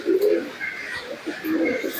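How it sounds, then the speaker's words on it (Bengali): A young red Giribaz pigeon coos softly in low, rolling bursts, two throaty phrases close by with light background noise. "এই একটা গিরিবাজ কবুতর বাচ্চা আছে লাল কালার"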